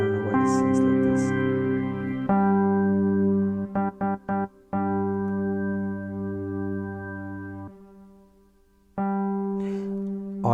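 A synthesized organ sound holding long, bright sustained chords that change a few times, with brief choppy cuts and a short dip partway through.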